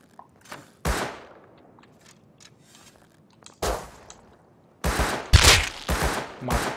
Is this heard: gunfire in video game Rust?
yes